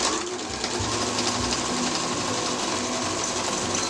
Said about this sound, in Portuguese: vou costurar a minha carteira. Aqui eu faço um retrocesso.